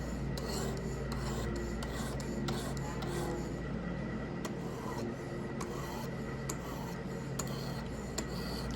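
Buck 119 knife blade drawn lightly across a sharpening stone in steady, repeated rasping strokes, close and fairly quiet, with soft scraping passes continuing throughout and no talk.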